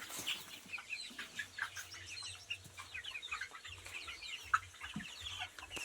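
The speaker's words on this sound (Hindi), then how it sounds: "ये हमारे प्योर नस्ल के ब्लैक स्टोलार्प चिक्स हैं।" Pure-bred Black Australorp chicks, about six weeks old, chirp and cluck in a busy flock, many short peeps overlapping at close range over a soft low rumble.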